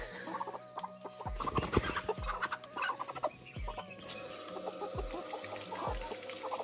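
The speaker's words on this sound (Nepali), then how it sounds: "ए पोथी नि हो यो त पोथी" Hen clucking in repeated short bursts, fairly close and clear, with other fowl sounds and faint rustling around it and no talk.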